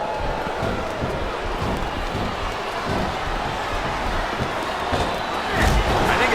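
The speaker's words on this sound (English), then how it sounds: "Now the fans start to cheer for him." A crowd in the wrestling video game WWE Smackdown vs Raw 2007 roars continuously, a dense, even wash of arena cheering that lifts slightly near the end.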